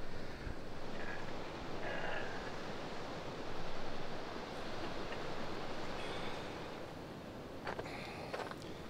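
Sea waves surge against the shore as a continuous loud roar of surf with wind buffeting, steady throughout with no voices.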